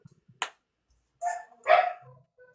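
Yakutian Laika dogs bark in a few short, sharp bursts with quiet gaps between them, fairly close and otherwise alone.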